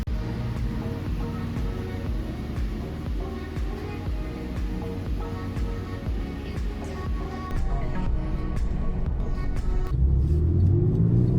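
A Porsche 997 Carrera 4S engine runs steadily with a deep rumbling idle, then swells louder near the end as it revs, close and continuous with no talk.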